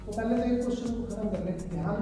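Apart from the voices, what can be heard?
No everyday noises stand out.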